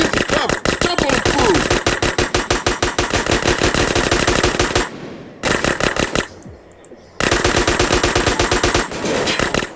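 Rapid automatic gunfire in GTA San Andreas, loud dense bursts of shots rattling nonstop, broken by two short pauses before the firing resumes.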